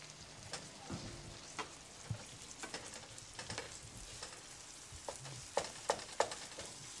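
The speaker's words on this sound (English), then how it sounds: "Drop in the cocoa-coated meat into the braising liquid, the caramelized sugar." Cocoa-coated beef dropped into a braising liquid of caramelized sugar, giving quiet bubbling and sizzling with scattered sharp pops and spatters that come louder toward the end, close by and alone.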